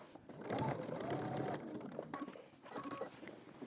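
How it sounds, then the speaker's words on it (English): A sewing machine stitches fabric in a steady, continuous run that holds for a few seconds, then eases into softer, uneven bursts of stitching and small handling noises. "I'm going to stitch down to this dot"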